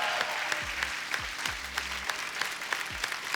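Studio audience applauding on a comedy talk show, a steady, even wash of clapping at moderate distance.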